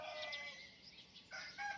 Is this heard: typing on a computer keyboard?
no